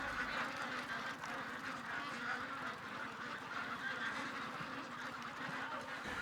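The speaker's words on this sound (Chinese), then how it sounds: "看着一只只膘肥体壮的鸭子" Fattened ducks quack and honk on a farm in a village, a faint, continuous flock chorus heard from a distance.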